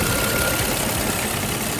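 A Jeep WK engine idling smoothly after a Seafoam carbon cleaning, a steady, dense mechanical hum and rumble heard close up for a short stretch, with no talking.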